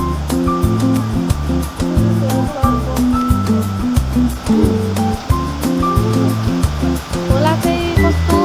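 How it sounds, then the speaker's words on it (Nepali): A river in a Nepali fun park rushes steadily and loudly, a constant broadband water roar filling the whole stretch, with rhythmic low tones or music-like pulses layered underneath. "खोला चाहिँ कस्तो दामी साउन्ड आएको है"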